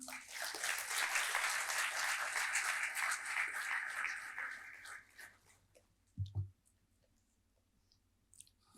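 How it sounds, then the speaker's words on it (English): A crowd at a book launch event in Jubilee Hills gives a warm, dense round of applause that carries for about five seconds, then fades out, leaving a few scattered claps and a faint thump. "please join me in extending a warm and enthusiastic round of applause"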